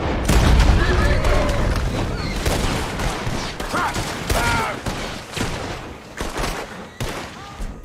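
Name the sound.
explosive charges detonating in Red Dead Redemption 2 video game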